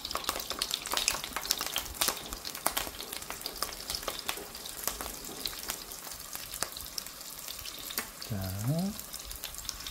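Sausages sizzle and crackle in a frying pan, a continuous crisp spatter with scattered pops and occasional stirring, heard close up; a brief voice-like sound rises near the end.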